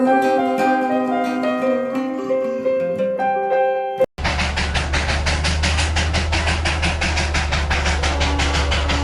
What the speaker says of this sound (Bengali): ওই দার্জিলিংয়ের বিখ্যাত টয় ট্রেন ধোঁয়া ছাড়তে ছাড়তে এগিয়ে আসছে।